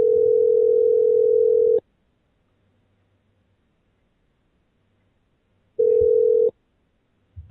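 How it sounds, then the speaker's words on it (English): A telephone ringback tone on an outgoing call, a steady loud electronic burst lasting about two seconds, a long silent gap, then a second shorter burst of the same tone. "It's ringing. Hopefully we don't get the answer machine again."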